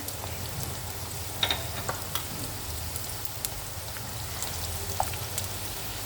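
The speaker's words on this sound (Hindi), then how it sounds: "थोड़ी थोड़ी करके आपने इनको फ्राई करना है।" Okra fries in hot ghee with a soft, steady sizzle and scattered faint pops and crackles, fairly quiet and without talk.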